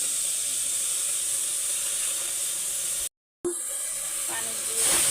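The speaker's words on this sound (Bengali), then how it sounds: "পানি দিয়ে দেব।" Water hitting a hot pan of frying prawns sends up a loud, continuous hiss of steam, broken by a brief silent gap and then a quieter hiss that swells again toward the end.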